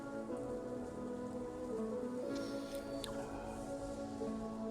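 Rain patters steadily in the Pokemon video game, a soft, even wash of drops with low rumbling beneath, fairly faint and continuous throughout.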